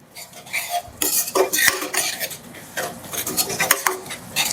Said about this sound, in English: I'm going to give my curry a stir.